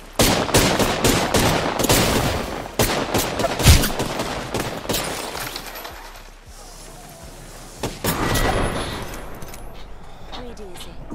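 Rapid bursts of gunfire from the video game Apex Legends crackle through the first half, then trail into scattered single shots, with a voice talking over the action.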